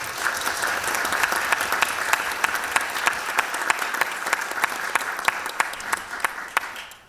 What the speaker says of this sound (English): I'd like Congress to give a warm hand of applause to the General Secretary, Mr Seamus Searson.